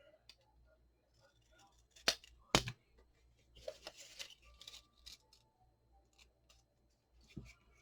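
Scissors snip a paper craft piece in a few crisp, close cuts with soft rustling between them, quiet and mostly alone.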